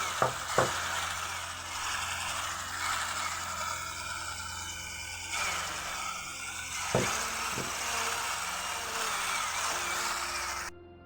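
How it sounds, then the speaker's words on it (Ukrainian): An electric mixer whips eggs with sugar at maximum speed for a sponge cake, a steady whirring drone running throughout with a few sharp knocks against the bowl, then cutting off abruptly at the end. "на максимальній швидкості збиваємо до білої пишної піни"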